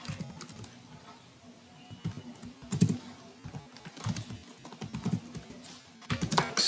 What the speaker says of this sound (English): let me type the program and I will explain you after this.